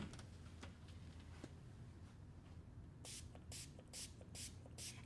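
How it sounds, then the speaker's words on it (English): Instant antique spray applied onto a craft project: five short, evenly spaced hissing spray bursts come in the second half, close and clear over a quiet room hum. "He's gonna spray it again"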